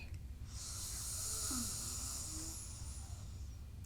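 A slow, controlled exhale through one nostril during alternate-nostril yoga breathing, a soft, steady airy hiss lasting a couple of seconds, close and quiet over a low background hum.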